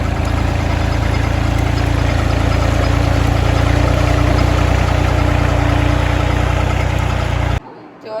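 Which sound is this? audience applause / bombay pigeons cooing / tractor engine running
tractor engine running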